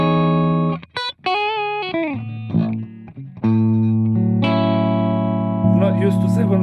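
A Strandberg seven-string electric guitar played dry through a Helix Stadium Fender US double black amp model, no compression or reverb: clean sustained notes and chords with a few short bent phrases and pauses, close and clear.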